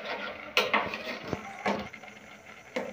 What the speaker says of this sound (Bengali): এইভাবে নাড়তে থাকতে হবে